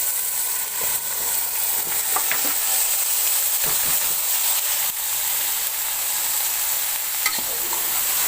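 Turmeric and spices being stirred in a hot pan for an aloo gobi sabzi, a steady close sizzle and hiss with occasional scrapes of the spoon against the pan, no voices.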